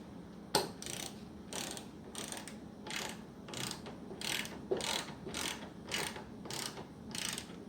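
A 12 mm ratchet clicks in a steady run of about a dozen strokes while tightening a nut on a Jeep Cherokee battery terminal, close and fairly quiet with no talking.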